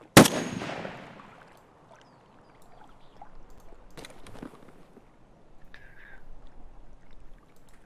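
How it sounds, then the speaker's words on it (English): A single loud, sharp rifle shot in Escape from Tarkov cracks at the start and rings out in a fading tail, followed by faint distant rumbles and quiet background noise. "You still shooting?"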